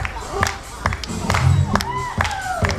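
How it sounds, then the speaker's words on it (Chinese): Audience claps and cheers at an Indigenous community college end-of-term showcase in Taipei, scattered clapping and crowd shouts mixed with voices and loud sharp bursts, lively and close. "给个掌声好吗？"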